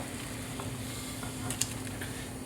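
Butternut squash ravioli hitting a hot pan of sage brown butter, giving a steady soft sizzle with a faint clink near the end, close and alone.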